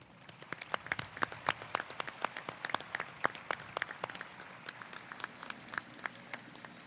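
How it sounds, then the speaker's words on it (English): A round of applause from the crowd at a high school commencement ceremony, sharp individual claps scattered and fairly distant, steady and moderately quiet with no talking over it. "Please join me in a round of applause acknowledging the service of the members of the Methacton School District"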